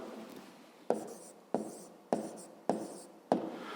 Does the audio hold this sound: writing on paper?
yes